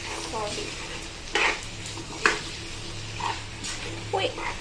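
Chicken liver and gizzard with a little fat frying in a pan while being stirred and mixed, a steady sizzle under scattered scraping stirs at close range.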